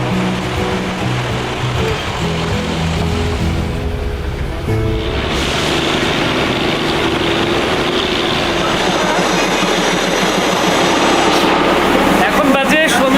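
A steam-hauled train on the Darjeeling mountain line rumbles along loudly and continuously, with a deep rolling drone and rattling carriages and a sharper clatter near the end, while people talk over it.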